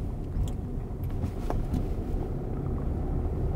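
Driving-school car accelerating and shifting into second gear, a steady low engine rumble that holds at an even, moderate level throughout with no talk over it.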